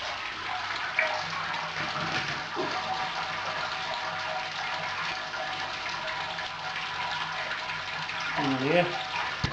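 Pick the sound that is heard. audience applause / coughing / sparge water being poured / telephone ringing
sparge water being poured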